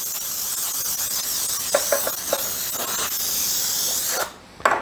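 Cooking spray hissing steadily onto parchment paper lining a spring-form pan for an apple cake, a long continuous close spray with a few brief clicks and knocks, ending in a short final burst.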